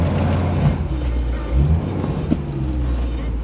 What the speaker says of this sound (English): so that's reverse, and then we're just gonna go into drive.